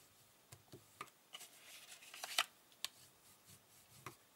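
Paper card being folded into pleats, each crease pressed the same way on the inside for a pull-tab cascade card; soft, quiet rustles and crisp creasing snaps scattered through, one sharper crinkle near the middle, no talking.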